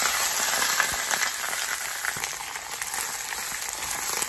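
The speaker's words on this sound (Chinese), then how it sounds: "鸭子放进去煎" Duck pieces pan-fried over medium heat after aromatics, giving a steady, fairly loud crackling sizzle that holds evenly throughout with no talking.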